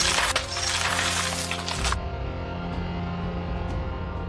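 Glass is smashed to break into a locked home: a loud, dense crash and scattering of shards lasts about two seconds, then cuts off to a quieter background with a couple of faint tinkles.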